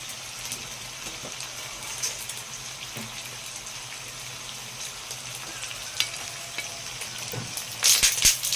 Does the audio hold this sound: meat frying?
yes